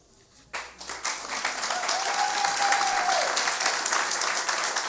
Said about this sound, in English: Let's get another round of applause for Jordan, Kate, Kirsten, and Joe.